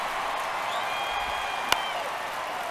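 Steady, distant stadium crowd noise from a Padres versus Diamondbacks baseball game in the MLB The Show 23 video game, a continuous broad murmur with a single sharp crack partway through.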